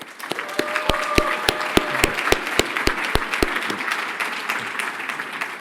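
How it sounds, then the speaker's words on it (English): Audience applause for an award finalist at the 2024 FAIR Awards Ceremony, a steady wash of clapping with several sharp, close individual claps standing out, continuous throughout. "So big applause for ZAC."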